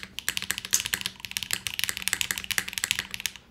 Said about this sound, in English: Let's see what the GMK spacebar sounds like.